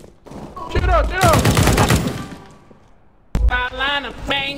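Rapid bursts of automatic gunfire crack from Counter-Strike: Global Offensive on the Anubis map, a dense loud volley, a pause, then another sharp burst, with excited voices calling over the shots.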